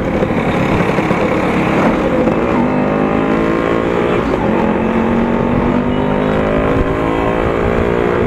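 A Yamaha RX-King motorcycle fitted with a spares-loaded built engine runs close by, a steady, loud two-stroke drone with slowly rising pitch and no voices over it.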